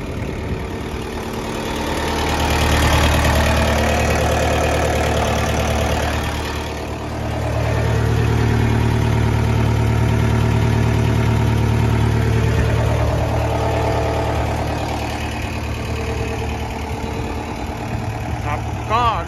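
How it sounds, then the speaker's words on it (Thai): A Kubota 40 engine in a TCM 808 wheel loader idles with a steady, low, rumbling drone that holds for the whole stretch, dipping briefly in loudness partway through before settling back. "เครื่องคูโบต้า40"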